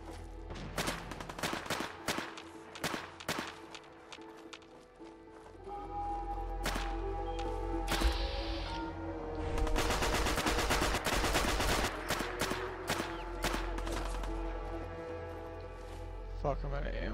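Gunfire from the video game Fallout 4 cracks out in sharp single shots and then dense bursts, loud against a low background, with a person talking over parts of it.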